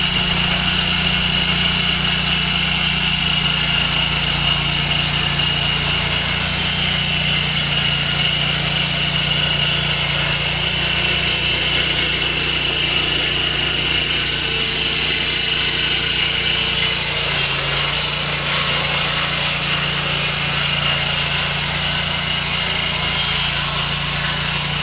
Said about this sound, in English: Once you've finished your first cut and you've taken the top off your log